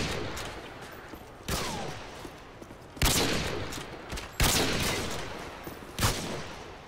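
Gunfire in Call of Duty MW2 on the Rust map, several sharp, loud bursts of shots spaced about every second and a half, each decaying into a ringing echo, with quieter ambient noise between.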